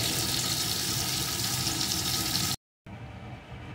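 Pointed gourd (potol) slices fry in hot oil with a steady close sizzle, then the sound cuts out and resumes more quietly.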